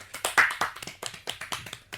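Sparse, light clapping from a small group of children, a handful of scattered uneven claps at a quiet level with no voices.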